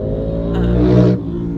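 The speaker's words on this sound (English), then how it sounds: "Motorcycle going fast." A motorcycle speeds past on a nearby road, its engine note swelling to a brief loud roar and then cutting away, heard over a steady low vehicle drone.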